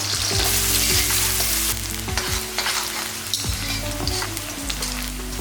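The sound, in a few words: chopped onion and green chili frying in oil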